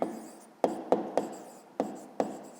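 A pen writes an answer by hand on paper for a fifth-grade maths exercise, making a few short, crisp scratching strokes in an irregular rhythm, close and fairly quiet, with no talking.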